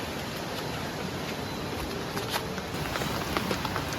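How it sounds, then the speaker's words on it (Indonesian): Rain falls on a camping tent at a family campsite in Bedengan, Malang, a dense continuous patter with scattered sharper drops close by. "Hujan lagi basah."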